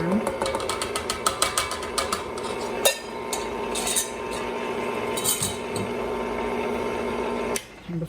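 Stand mixer beating gingerbread batter as dry ingredients go in, a steady close whir under light clinks and taps of the bowl and spoon, with a brief pause near the end.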